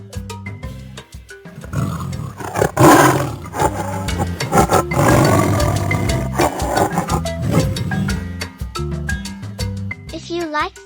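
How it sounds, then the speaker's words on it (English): A tiger roars loudly and repeatedly in a children's animal sounds song, the growling roars dense and close, with music and brief voices around them. "What sound does a tiger make?"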